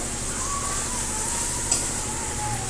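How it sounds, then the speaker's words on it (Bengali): Chicken pieces frying in released oil in a pan for a thin chicken and potato curry, a steady close sizzle with faint crackle throughout and one small clink. "দেখো মাংসটা কষানো হয়ে গেছে তেল ছেড়ে গেছে সুন্দর করে কষানো হয়েছে"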